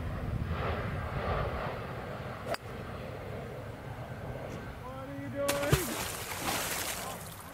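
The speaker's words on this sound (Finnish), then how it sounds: "Kattokaa, kun se menee lentokone taustalla." An airplane passes in the background about six kilometres from an airport beside a Mallorca golf course, a steady low engine drone under outdoor wind noise, with a sharp click and a brief rising whistle near the end.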